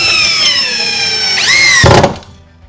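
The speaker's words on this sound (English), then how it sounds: "I can easily put the third screw in and then just repeat the process on the rest of the brackets." A power drill drives screws into an L bracket for overhead garage shelving, a loud steady whine with harmonic tones that dips and rises before the screw seats with a brief thunk, then the motor winds down.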